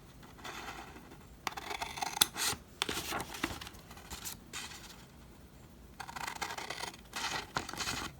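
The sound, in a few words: scissors cutting out a paper block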